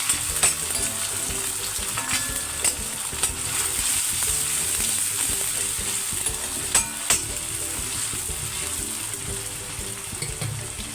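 Chopped tomatoes frying with onions in a pan for a veg Kolhapuri curry, a steady bright sizzle running throughout with a few faint clinks and scrapes of stirring, close and without talk.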